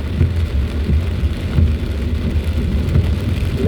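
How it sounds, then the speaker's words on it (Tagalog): Heavy rain pounds steadily on a car during a typhoon around Alabang Hills, a dense continuous roar with low rumbling swells, loud and close for the whole stretch, with no talk. "Lakas na ng ulan, guys."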